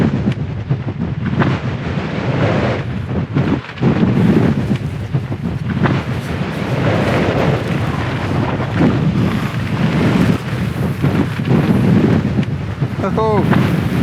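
Strong gusts buffet an exposed Scottish hillside, roaring loudly and constantly with heavy wind noise battering the microphone throughout, rising and falling in surges.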